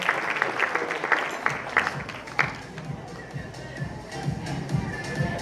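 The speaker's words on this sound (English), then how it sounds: "Let's give him a lovely round of applause." An audience claps in a brief burst that fades into scattered, lighter clapping amid shuffling and murmuring.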